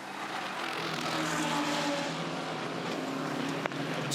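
A McLaren GT race car, the No. 59 Boost Mobile entry, moves along pit road during practice for the Bathurst 12 Hour 2020, its engine a steady, loud drone with a sharp knock near the end.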